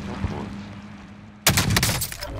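One sudden, loud sniper rifle shot in a shooter game bursts out of a quiet low hum and trails off into a rough echoing rumble.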